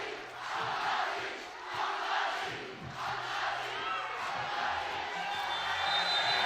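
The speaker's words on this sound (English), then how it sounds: "The crowd chanting defense in Mongolia." A basketball crowd at a FIBA 3x3 World Cup game in Mongolia chants defense, a loud rhythmic chorus of massed voices swelling in repeated waves throughout.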